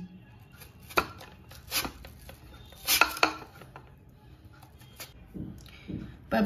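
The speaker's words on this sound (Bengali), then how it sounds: "দেখছেন তো আমি কিভাবে আলুগুলোকে কেটে নিচ্ছি" Potatoes are sliced on a hand-operated cutting machine, making scattered sharp clacks and scrapes with quiet gaps between them.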